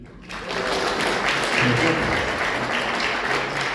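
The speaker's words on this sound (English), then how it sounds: "We should all applaud that, dude." Steady, full-room applause from a comedy club audience in Portsmouth, loud and continuous throughout, with faint voices mixed in.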